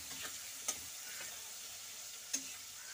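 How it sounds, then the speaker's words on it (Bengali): Onions and spices for chicken kosha frying in a pan, a faint continuous sizzle with two sharp clicks of a spoon stirring against the pan, no voices. "তো এটা একটু ভাজা ভাজা হয়ে গেলে মশলাটা দিয়ে"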